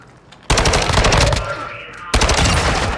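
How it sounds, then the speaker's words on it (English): Rapid automatic gunfire in the shooter game DMZ, loud and close, in two sustained bursts separated by a brief lull. "someone's shooting me from behind."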